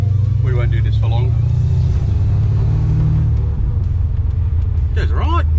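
Holden LX Torana pro street V8 rumbling steadily at low revs while driving, a loud deep drone throughout with a slight extra noise and brief rises, under a voice speaking now and then.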